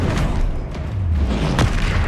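Confringo explosive spell from Hogwarts Legacy, a dense booming blast with a low rumble that swells and lingers, with a sharp crack near the end.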